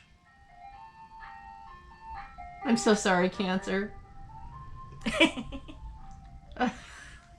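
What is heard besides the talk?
ice cream truck passing by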